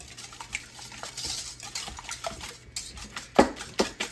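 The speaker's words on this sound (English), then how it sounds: "We're going to whisk this up, y'all." Eggs and sugar whisked by hand in a bowl, a quiet run of light scraping and clinking taps against the bowl, with a couple of sharper knocks near the end; no talking.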